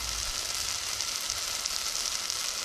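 Onions and garlic frying in a pot for a rustic lentil soup, a steady close crackling sizzle that stays even throughout, with no talking over it.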